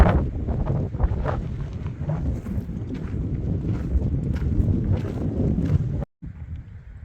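Gusting wind buffets the microphone on an exposed mountain hiking trail of the Continental Divide, a steady loud rumble with no talk, cutting out abruptly near the end before resuming softer.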